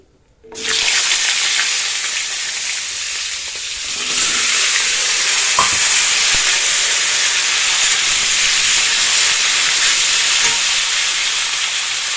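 After a brief quiet start, a loud hiss of cumin seeds hitting hot oil bursts in and keeps sizzling strongly, swelling further partway through.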